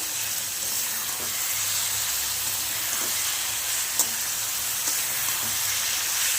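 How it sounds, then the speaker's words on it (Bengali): Dal sizzles in a pan while sugar is stirred in, a steady frying hiss broken by a few soft scrapes and clinks of the spoon, with no talking. "চিনিটা ভালো করে ডালের সাথে মিশিয়ে নেব।"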